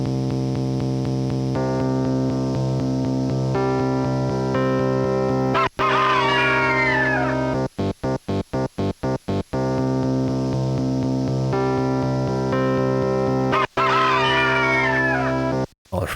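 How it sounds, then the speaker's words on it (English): A sampled rooster crow repeats twice within a looping electronic tune, its wavering call rising over steady synth tones and stuttering chopped beats. "that rooster sound is hilarious"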